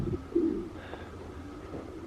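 A racing pigeon coos softly once or twice against a steady outdoor hum, with a brief low murmur after it.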